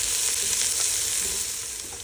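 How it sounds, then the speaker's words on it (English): Garlic frying with onions, carrots and butter in a soup pot, a steady close sizzle with faint stirring, no voices. "I have added the garlic and we'll cook it for only like a minute."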